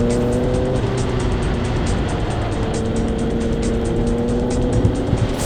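Formula Vee race car lapping Mondello Park in Ireland, heard onboard with other cars close behind: a loud, steady engine drone with a shifting pitched whine that runs continuously, with brief bumps near the end.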